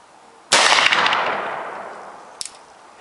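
One loud, close gunshot from a Griswold and Gunnison revolver cracks out sharply and rings into a long decaying echo, followed by a faint metallic click and rattle near the end.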